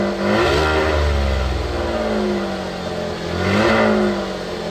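A 2015 GMC Canyon pickup's V6 engine revs twice, each time rising smoothly from idle to a moderate, fairly muted climb and falling back, heard up close with no talk.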